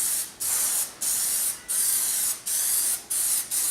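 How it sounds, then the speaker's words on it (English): Plasti Dip aerosol spray laying a second coat on Tesla Model X wheels: about six close, loud hissing bursts with short gaps between them, and no talking. "Now we're going to put the second coat on"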